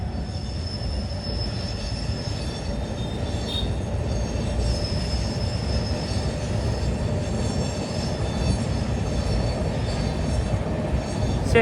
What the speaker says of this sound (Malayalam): കാക്കിനാട പോർട്ട് തിരുപ്പതി എക്സ്പ്രസ് ഇതാ